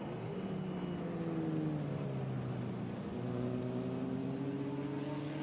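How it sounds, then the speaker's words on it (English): A Corvette and a Mustang racing on the track at New Jersey Motorsports Park during a vintage race, engines droning steadily at a distance with a slowly shifting pitch and no talk. "This is a great fight right here between the Corvette and the Mustang."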